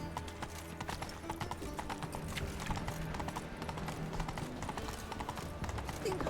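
Galloping hooves of Roach, the horse in The Witcher 3 video game, clip-clop in a steady, continuous rhythm over game music and ambience, close and fairly loud throughout.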